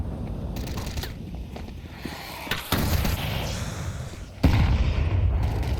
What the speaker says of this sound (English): Early nades out here.